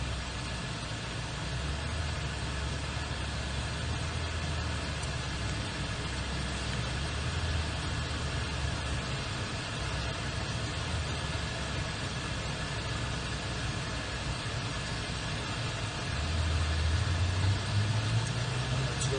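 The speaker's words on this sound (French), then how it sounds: "Pour enclencher la première et là tu accélères doucement pour avancer." A Ferrari F8 Tributo's engine hums steadily at low revs during a track driving session, then rises in pitch and loudness near the end as it pulls away in first gear, heard from inside the car amid a constant broadband noise.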